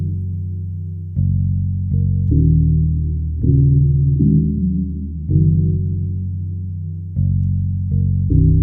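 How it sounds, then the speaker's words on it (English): A lo-fi sample plays together with a classic 80s-style bassline programmed in FL Studio, the deep, round bass notes stepping between pitches in a slow, steady groove under warm, muffled chords. "so with the sample and the bassline together, sounds like this."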